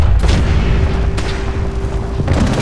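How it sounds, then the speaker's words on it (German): A heavy explosion in Fallout 4 rolls out as a loud, sustained boom with rumbling low end that fills the whole stretch without letting up. "Oh Gott, was ist denn da gerade explodiert?"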